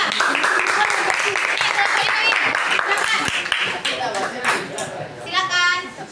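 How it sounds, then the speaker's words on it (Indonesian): Audience applause for presenters at a reproductive-health discussion session, many hands clapping loudly and continuously, with a few voices and children's chatter mixed in before it thins out near the end. "Nah, beri tepuk tangan untuk mereka."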